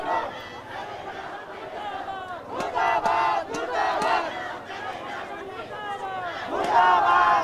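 An angry protesting crowd in Kathmandu roars and chants loudly, with a dense mass of shouting voices and sharp cries rising above a constant hubbub.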